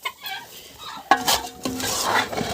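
Farmyard poultry squabble as a turkey hen fights with a rooster; after a quiet start, a sudden loud squawk breaks out, followed by agitated clucking and harsh calls close by.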